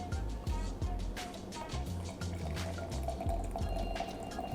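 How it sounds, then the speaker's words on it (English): Champagne pours slowly into a glass, giving a soft, continuous liquid trickle with light fizzing and drips, close by over a faint background. "Slowly, little bit of smell to make sure the champagne is ready, and you start to pour it in the glass."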